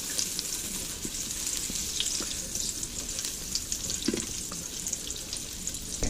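Butter heating in an Instant Pot gives a steady, soft sizzle with faint crackles, close and alone.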